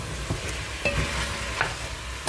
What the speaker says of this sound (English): Give it a quick stir to make sure everything is coated